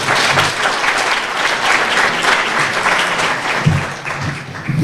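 An audience at the Newark History Society's 15th anniversary celebration in a historic library building applauds the library director, loud sustained clapping from a sizable crowd that tapers slightly near the end.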